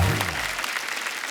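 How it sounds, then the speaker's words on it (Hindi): Studio audience on a Hindi talk show applauding its guests: a steady, fairly loud wash of many hands clapping that holds for the whole short stretch. "जोरदार तालियां हमारे मेहमानों के लिए"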